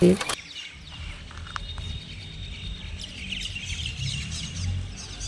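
Small birds chirp and tweet faintly at a distance over a steady outdoor background hum, with short high calls scattered through the stretch and no talking.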